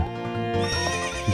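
A horse in Zelda: Ocarina of Time on GameCube lets out a bright, close whinny with a rising then falling pitch, over a faint clip-clop of hooves.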